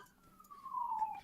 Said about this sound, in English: That sounds more like a fire engine.